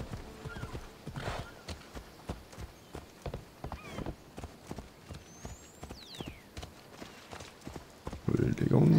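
Horse hooves clip-clop at a walking pace in Assassin's Creed Odyssey, an even, repeated hoofbeat with a brief whinny, while someone talks over the game audio.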